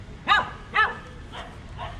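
A dog at a fishing port gives two sharp, close barks, then two fainter, softer yips, against low outdoor background noise.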